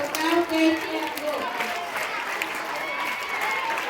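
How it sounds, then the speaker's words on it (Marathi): Applause and clapping from students and audience at a school prize-giving ceremony, steady and fairly loud throughout, with a crowd murmur and some voices beneath it. "जोरदार टाळ्या झाल्या पाहिजे बाळांनो"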